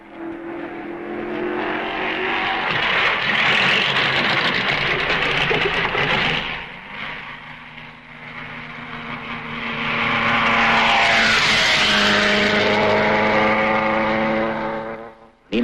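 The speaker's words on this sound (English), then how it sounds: "Nino Farina is away in his Ferrari" Ferrari racing car at the 1955 Belgian Grand Prix pulls away with a loud engine drone, fades briefly, then another surge of revving rises and sweeps upward in pitch before cutting off.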